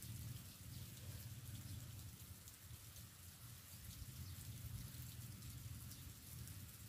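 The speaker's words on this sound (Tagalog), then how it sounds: "umuulan pa rin dito kasi nga may bagyo" Steady rain falls during a typhoon, a dense, even hiss of drops on surfaces that holds constant throughout, moderately faint and close around, with no voices.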